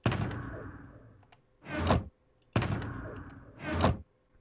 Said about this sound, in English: the ender chest when you open and close it